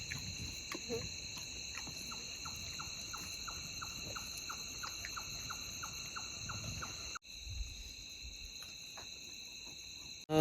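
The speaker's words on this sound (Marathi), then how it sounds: "रातकिड्या बोलतात ना त्याचा फक्त आवाज येतोय" Crickets chirp at night in a forest campsite in a faint, continuous high trill, with soft ticking clicks scattered through the quiet background.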